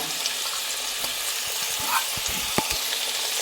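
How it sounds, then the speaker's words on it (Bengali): Ginger paste hits potatoes already fried with salt and turmeric, setting off a steady, bright sizzle with a few clicks and taps from the pan. No one is talking. "নুন হলুদ দিয়ে আলুটা ভেজে নিয়েছি, এবার আমি দিচ্ছি আদা বাটা।"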